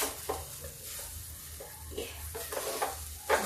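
Potatoes and okra stir-fried on low heat, a soft, low sizzle with a few gentle spatula scrapes at intervals, close but quiet.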